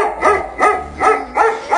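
A dog barks four times in a quick, even rhythm, close and loud, with no talk.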